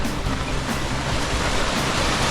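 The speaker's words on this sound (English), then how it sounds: "Here's Mott Creek." Mott Creek in Mott Canyon in the Sierra, flowing exceptionally well, gives a steady, loud, close rush of water with a broad hiss and no break.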